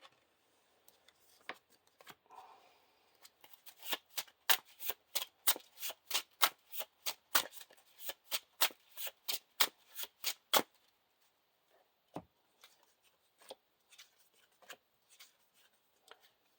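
Cards from a Lord of the Rings card game deck being riffled and flicked, a steady run of about twenty sharp, evenly spaced snaps, then a few scattered softer card sounds, close and clear.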